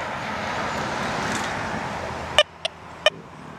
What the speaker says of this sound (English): Let this car get by.